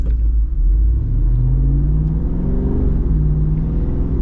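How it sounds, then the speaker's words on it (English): A V8 engine in an AEV Jeep Wrangler 392 rumbles and revs up steadily, a deep throaty growl heard from inside the vehicle. "you gotta love that V8 sound and power"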